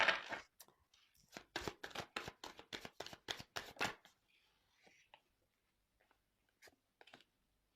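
Tarot cards shuffled by hand in a quick series of about a dozen crisp, close riffling slaps, then a few softer scattered card sounds and a brief murmur of talk afterward.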